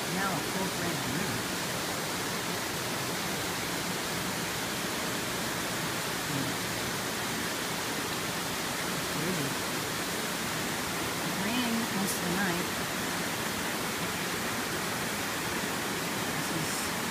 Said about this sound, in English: This morning, look at that river, raging.